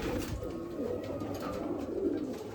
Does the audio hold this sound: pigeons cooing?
yes